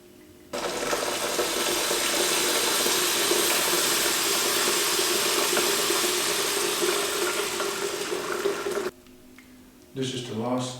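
Pump of a Speidel Braumeister 10L brewing system kicks in after a pause and runs as a steady, loud whirring hum with watery churning for several seconds, then cuts out abruptly before a voice speaks.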